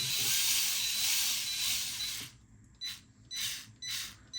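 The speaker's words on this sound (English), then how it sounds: "I know you should not be using power tools with this stuff" A power tool whirs steadily for a couple of seconds, then fires in three or four short bursts, driving screws into a 1/24 scale model build.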